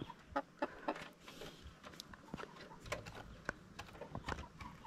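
RTL hens clucking in a backyard coop after laying eggs, a scatter of short, sharp clucks and calls at moderate distance over a steady low hum, with no one speaking.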